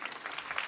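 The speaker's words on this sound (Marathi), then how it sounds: "टाळ्या वाजवा ना जोरदार." A brief burst of steady clapping from an audience at a kirtan, moderately loud and dense, lasting under a second.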